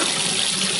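Cooked beans being drained, water pouring steadily in a brief, continuous splashing rush, as into a sink.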